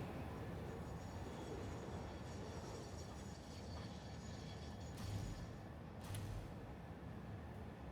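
Trains run steadily in a factory-building video game, making a continuous rolling rumble with faint clatter and two brief brighter bursts near the end, and no talk.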